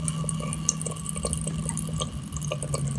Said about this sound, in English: turned the water source back onto the cold, and got this real low water pressure.